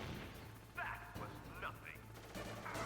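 In Metal Gear Solid, a missile fires and explodes with a few sharp, booming blasts, fairly faint and spaced irregularly against a low background hum.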